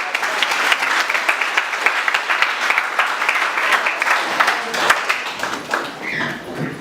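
Sustained applause from an audience at a school evening event in Azerbaijan, steady dense clapping with some sharp individual claps standing out, fairly close and continuing for several seconds before thinning slightly at the end.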